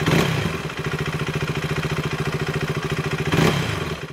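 A KTM motorcycle engine in neutral is blipped quickly toward 5,000 RPM and drops back, a steady rapid engine pulse with a sharp rev at the start and another swell near the end, close and alone.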